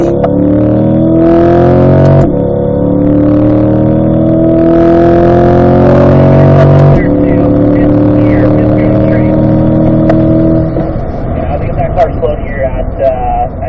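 Chevrolet C8 Corvette accelerating hard on a race track out of a turn, engine note climbing steadily through the gears with abrupt shifts, loud and close from inside the car, with an instructor talking over it.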